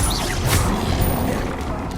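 Incendio fire spell cast in the Hogwarts Legacy video game, a dense roaring burst of flame with a crash-like swell near the start, sustained loudly throughout and free of talk.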